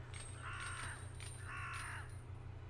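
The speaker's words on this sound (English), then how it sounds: "Bunch of crows that are just kind of around." Crows caw in the Monaco video game, two drawn-out harsh calls in quick succession over a constant low hum, with no talking.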